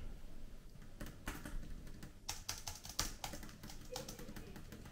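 Fingers tap on a MacBook Pro 16-inch keyboard in quick irregular bursts of soft clicks, close but quiet over faint room noise.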